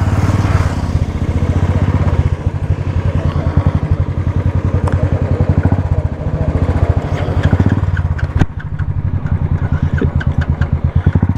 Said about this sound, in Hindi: अब अपन चलाएगा ये डुक डुक डुक डुक